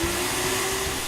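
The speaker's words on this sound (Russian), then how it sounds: "Это мама пылесосить начала." A household vacuum cleaner runs at home as a loud, steady whooshing drone with a constant motor whine, close and unbroken, with no voices.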